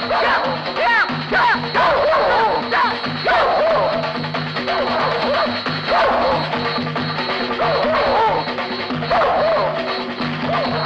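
Dogs bark and yip repeatedly in a lively comic film scene, the barks mixed with background music and occasional voices, fairly loud and close throughout.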